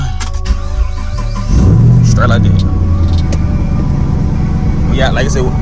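A Chevrolet Camaro SS engine turns over and settles into a steady, smooth idle rumble, with some clicks and brief background noise around it.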